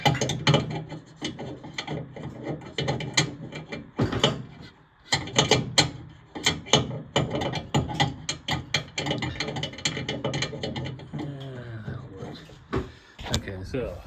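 Ratchet wrench tightening a bolt on an elliptical machine, giving close, rapid bursts of clicking in uneven runs with brief pauses and a few heavier knocks between strokes.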